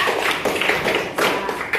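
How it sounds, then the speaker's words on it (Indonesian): Students in a classroom give a short round of clapping for a classmate, a brisk patter of close hand claps in a few quick bursts with no voices. "Kasih tepuk tangan untuk Savana ya"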